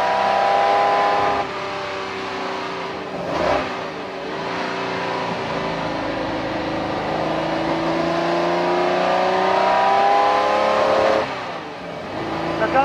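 A classic Jaguar XJ13 race car, its suspension partly from the E-Type, drives along with a steady engine drone and rising, falling tonal whine, heard from close by with wind rush and occasional shifts in pitch.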